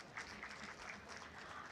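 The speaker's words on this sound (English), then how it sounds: "A round of applause, please." Audience applause at an Islamic economics and finance conference in a hall, a steady wash of many hands clapping at moderate level throughout, with faint voices mixed in.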